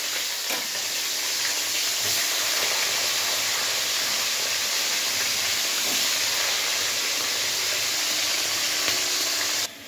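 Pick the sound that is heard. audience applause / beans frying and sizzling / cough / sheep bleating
beans frying and sizzling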